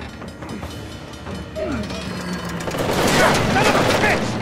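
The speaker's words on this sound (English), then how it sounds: "Train's getting closer!" In Uncharted: The Lost Legacy, a train approaches along the tracks, a rumbling rolling roar that swells louder toward the end, mixed with scattered game effects.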